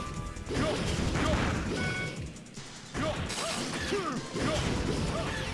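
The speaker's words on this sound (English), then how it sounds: "Oh, I forgot he dropped that bomb." Bomb blasts in Mega Man ZX Advent, a couple of crunchy explosion bursts over busy game sound effects and a faint looping soundtrack.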